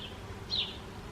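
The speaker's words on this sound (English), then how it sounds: "I'm not even sure you can hear me because of the buzzing of the bees." Bees buzzing outdoors, a soft continuous hum that swells briefly as one passes close, faint and alone.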